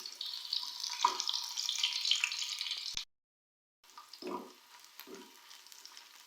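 Half an onion and three or four garlic cloves hit hot ghee on a tawa for dhaba-style chana dal, giving a loud, steady sizzling hiss. After a brief silent break, a softer sizzle returns with a few light clinks.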